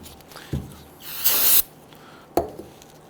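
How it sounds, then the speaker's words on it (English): A single half-second hiss of spray solvent aimed at rear brake parts on a 2011-2017 Nissan Quest, set between two sharp knocks from the parts being handled. "Use some spray solvent."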